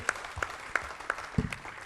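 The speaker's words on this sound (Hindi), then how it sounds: "हम सब मिलके एक बार जोरदार तालियों से इन बच्चों को अभिवादन करेंगे" Audience clapping for students at an award ceremony: fairly light, scattered applause with irregular claps throughout, moderately close and without talk.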